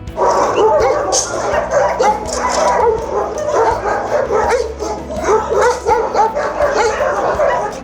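Many dogs bark and yip together at an animal shelter, a dense, loud, continuous chorus of overlapping barks with some whimpering, heard up close.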